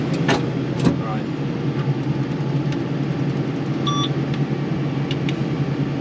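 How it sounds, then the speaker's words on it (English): Over a low, steady engine rumble, a short electronic beep sounds once, clear and near, as a T7.230 tractor idles, warning on reaching the bottom or top gear. "When you get to the bottom gear or the top gear, it beeps."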